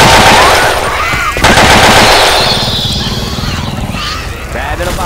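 A big gun fires in a video game, loud rapid automatic bursts crackling up close, mixed with other game sounds and a voice talking over it.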